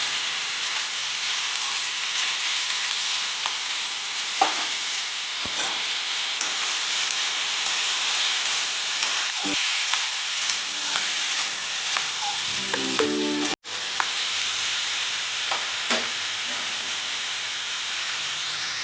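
Potatoes and ridge gourd fry in a pan with a continuous broad sizzling hiss, broken by a few faint clinks of stirring and one brief cut-out, no talk.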